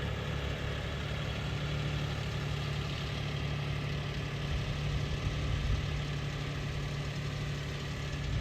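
A tractor loader's engine idles in a field on a farm being levelled, with a constant low rumble and a steady mechanical chug. The sound is loud and close and continues without a break, with no voices over it.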